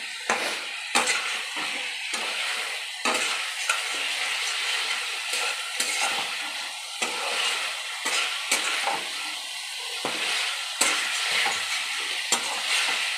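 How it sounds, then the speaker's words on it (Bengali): Fish heads frying with spices in a pan, a continuous close sizzle broken by repeated scraping strokes of a spatula against the metal, with no talking. "মশলাটা যেই একটু ভাজা ভাজা হবে, এই মুড়োগুলো দিয়ে দেবো।"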